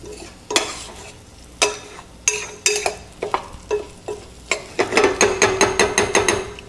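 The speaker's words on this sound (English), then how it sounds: "Let's give it one last stir." Brown rice pilaf with a bay leaf being stirred in a pot, a run of sharp spoon scrapes and clinks against the metal that come faster and more regular toward the end, close up over a faint sizzle.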